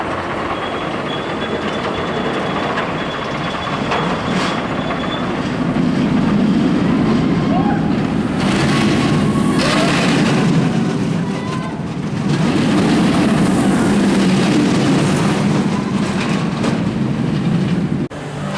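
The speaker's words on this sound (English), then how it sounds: "I just had my final ride on stand-up Shockwave" The Shockwave stand-up roller coaster at Drayton Manor roars along its track with rumbling, rattling wheel noise that swells and surges twice over the ride, loud and close, with faint voices at moments.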